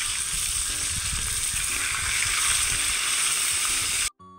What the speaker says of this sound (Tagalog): kay magprito patag isda